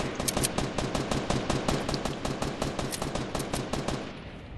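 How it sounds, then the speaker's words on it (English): Rapid automatic gunfire in a video game: a fast, unbroken string of sharp, loud shots that continues for several seconds before easing slightly at the end. "He's being shot from somewhere"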